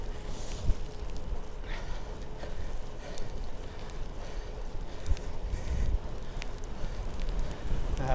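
Steady gusting headwind roaring over the microphone on a rainy ride on a Ribble CGR AL-E e-bike, a continuous broadband rumble with occasional faint knocks and no talk.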